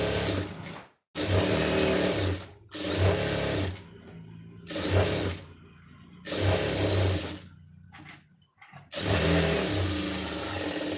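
A sewing machine stitches a lined blouse in several long, steady whirring bursts separated by brief stops, close and loud.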